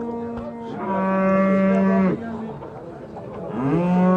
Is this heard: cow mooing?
yes